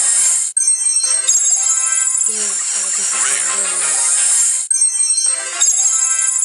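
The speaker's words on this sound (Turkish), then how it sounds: "Yine altın sesi geldi." A bright, chiming Brawl Stars gold reward jingle plays, fades briefly under a lower shimmering swell, then returns, loud and continuous.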